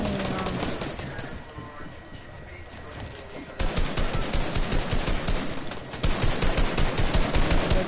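Rapid automatic gunfire in a shooter video game, bursts of close, dense shots that grow louder partway through and continue steadily to the end, with game effects layered underneath.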